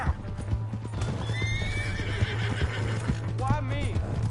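Horse in Red Dead Redemption 2 gallops with steady clip-clopping hooves and gives several high neighs and whinnies, heard over continuous game background and a low steady hum.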